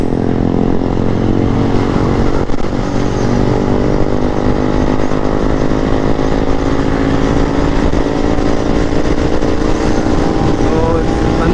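Motorcycle engine racing in fourth gear on a ride from Gurudongmar to Kolkata: a steady, loud, droning engine hum with constant road and wind noise, held at an even pitch throughout.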